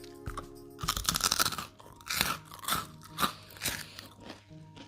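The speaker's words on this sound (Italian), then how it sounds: "Questo pane fa cric croc." Crunchy bread is chewed close up, with a series of crisp, loud crunches and crackles in irregular bites, separated by brief quieter gaps, no talking.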